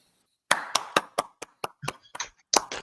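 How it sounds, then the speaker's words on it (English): A small group claps after a script read-through, about ten sharp, separate hand claps spread irregularly over a couple of seconds, close and fairly loud with silence between them and no talking. "So a round of applause for Ange and all the great work she just did for us."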